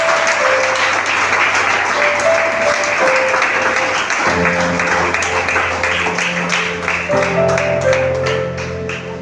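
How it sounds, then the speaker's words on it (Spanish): Loud congregational applause in a church service, continuous dense clapping from many people with sustained organ or keyboard chords changing underneath, tapering slightly at the end. "Denle un aplauso al Señor."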